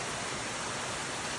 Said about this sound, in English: Here's a nice little waterfall.